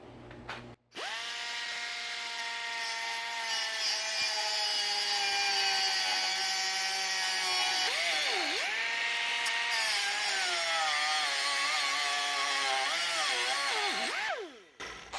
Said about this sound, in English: So now we're ready to cut this lip off of the bumper. So I've got a cutoff wheel.